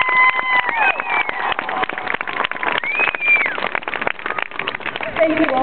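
Crowd at a military deployment ceremony in Alaska applauding soldiers, a burst of clapping and cheers with sharp hand-claps and shouted voices, loud and close, lasting several seconds.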